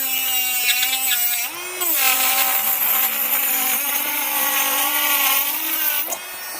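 An iGel Beauty nail e-file drill runs at 30,000 RPM, a steady high-pitched electric whine close up, dipping briefly in pitch as it works a pink nail surface before settling back.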